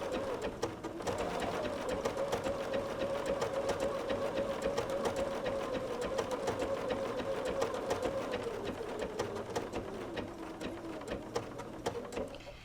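Sewing machine stitching through a quilt, a steady fast whirring hum with rapid needle clatter, close and continuous with a brief slowdown near the end.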